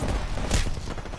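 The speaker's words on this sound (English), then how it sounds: "Listen up, I'm getting shot at." A rapid burst of gunfire from the Apex Legends video game crackles close and loud in one brief volley.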